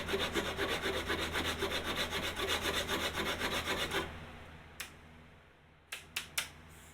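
A wooden workpiece is scrubbed by hand with an 80 grit sanding block in quick, even back-and-forth strokes for about four seconds, then a few scattered scrapes and taps follow in near quiet.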